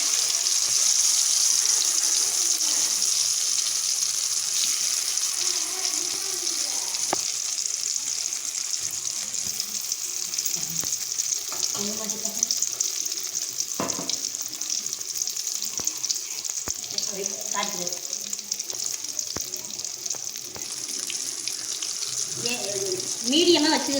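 Raw plantain pieces frying in hot oil in a village-style kitchen, a continuous bubbling sizzle held at steady loudness throughout, with occasional clatters and scrapes from the pan.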